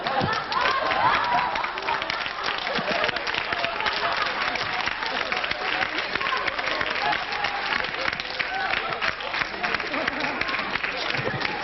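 A television studio audience on a 1981 French variety show applauds steadily for over ten seconds, a broad wash of many hands with crowd murmur and voices speaking over it.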